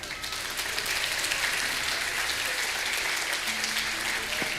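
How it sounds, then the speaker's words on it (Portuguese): A church congregation breaks into loud, dense applause for God, a continuous wash of many hands clapping filling the room from start to finish, with a faint voice briefly audible underneath. "Vamos aplaudir nosso Deus bem forte?"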